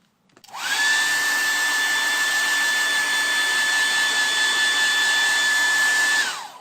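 A hair dryer blows on freshly painted white base coat on MDF, starting up, running at a steady, even whine for several seconds, then switching off, with no talk.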